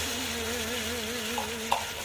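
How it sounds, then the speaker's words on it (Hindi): Tomato paste frying with daal channa masala in a pan, a steady close sizzle with a faint stir partway through and no talking. "अब जी हमारे पास टमाटर का पेस्ट बना हुआ वो शामिल कर देते हैं"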